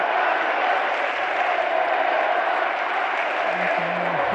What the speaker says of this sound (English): You can now hear the crowd in full voice.